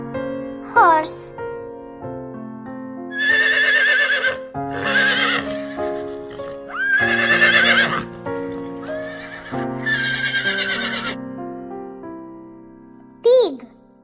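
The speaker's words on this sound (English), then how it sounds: "Horse." A horse neighs and whinnies in several long, loud calls with clip-clop hoof sounds, part of a sequence of farm animal sounds for children, ending in a brief final whinny.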